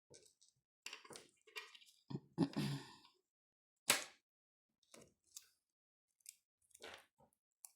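Small scissors snip off the excess of a nail sticker during a manicure, a series of short, close crisp cuts and rustles separated by silence.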